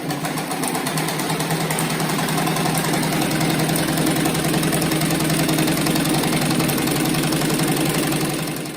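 A sewing machine runs steadily, stitching fabric scraps together for a round patchwork rug, a loud continuous mechanical whir up close with no talking.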